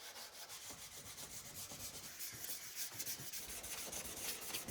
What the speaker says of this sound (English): We're gonna try sanding down the visor really quick to give it that old school patina look.